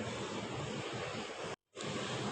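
Water pours steadily into the tank of a Crompton Ozone 95 L desert air cooler. It makes a continuous rushing splash that stops briefly for a moment of silence and then resumes, with no voices.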